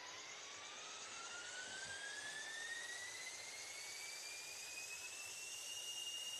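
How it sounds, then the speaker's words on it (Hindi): A flying jet in the mobile game Indian Bike Driving 3D roars steadily for the whole stretch, its whine slowly climbing in pitch, loud and alone with no talk. "चलो फ्लाइंग जेट को लेकर के चलता हूँ कुछ एक बड़ी वाली बिल्डिंग के ऊपर"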